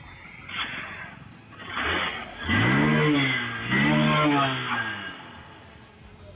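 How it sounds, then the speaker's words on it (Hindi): A Honda Unicorn 150cc motorcycle engine revs up twice in close succession, its pitch climbing and falling with each throttle blip over a low idle, fairly loud and close with no talk. "हम इसका एक और साउंड सुना देते हैं आपको कि एक बाइक की जो साउंड है गाड़ी की कैसी है।"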